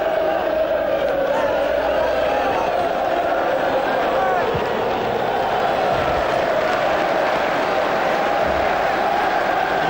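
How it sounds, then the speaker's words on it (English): Manchester United fans applaud and cheer in the stadium during the 1994 League Cup semi-final second leg at Sheffield Wednesday, a continuous loud roar of crowd noise with a commentator talking over it. "Manchester United fans at that end rise to applaud the, well, brilliance is no other word, of Mr. Giggs."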